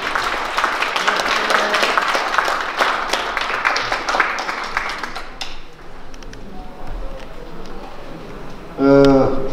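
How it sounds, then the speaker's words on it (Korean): A crowd at a book launch in Korea gives the author loud, sustained applause that dies down into murmuring. A voice then speaks briefly at the end. "여러분 어느 때보다도 큰 박수 부탁드립니다."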